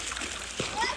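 Children splash about in an outdoor swimming pool at a farmhouse, with a short, close splash of water under the ongoing noise of the pool. A voice talks over it.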